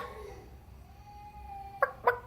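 A child mimics a chicken with a soft, drawn-out squeak followed by a few short, sharp clucking bursts, close and fairly quiet.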